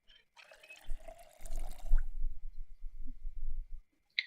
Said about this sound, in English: I just filled up the saucepan.